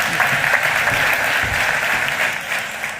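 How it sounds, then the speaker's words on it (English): Steady, dense applause from an audience at a business talk on revenue teams, honoring a speaker named Ronald, continuous clapping for a few seconds with a slight fade at the end. "One more round of applause for Ronald"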